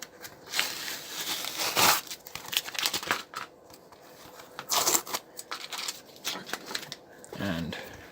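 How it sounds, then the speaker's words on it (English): Plastic backing being peeled off a damp carved and tooled leather piece, giving crinkly, tearing rustles in several bursts that are close and moderately loud. "Then peel off the backing."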